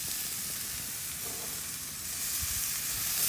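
Pork chops sizzle on a grill with a steady close broadband crackle and hiss that holds throughout and swells slightly toward the end.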